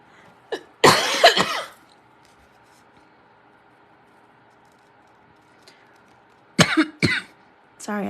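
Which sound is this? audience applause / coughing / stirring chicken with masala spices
coughing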